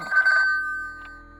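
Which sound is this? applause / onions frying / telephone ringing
telephone ringing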